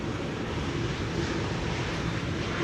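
A KLM Boeing 787-9 at stormy Amsterdam Schiphol, a constant broadband jet engine roar blended with wind buffeting, steady and moderately loud throughout.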